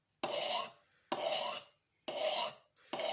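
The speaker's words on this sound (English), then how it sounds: "This is my first Norton India sharpening stone" A knife blade is drawn across a Norton India sharpening stone in slow, regular rasping strokes, about three full passes with short gaps between them, close and clear with no other sound.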